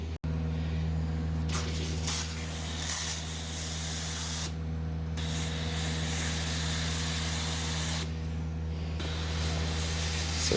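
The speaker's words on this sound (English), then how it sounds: "So I'm going to pre-spray this, get it treated" Cleaning solution pre-sprayed onto a diarrhea stain on carpet from a pump sprayer, making a long steady hiss broken by two short pauses, over a constant low machine hum, close and continuous with no talking.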